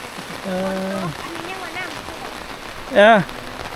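Rain falls in the Lao countryside as a steady hiss in the background, while a voice talks briefly over it.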